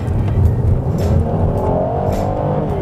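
A 2016 Kia Sedona SX Limited with a 3.3-liter V6 accelerates on the road, its loud engine drone climbing steadily over tire and road roar, heard from inside the cabin.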